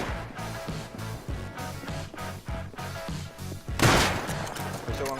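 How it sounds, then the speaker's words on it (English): Gunfire in the video game Rust: a rapid run of rhythmic shots with a heavier burst near the end, heard under faint background game sound. "I shot one guy down."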